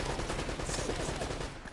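Rapid gunfire in the video game Uncharted, a dense continuous burst of loud shots that fills the whole moment up close.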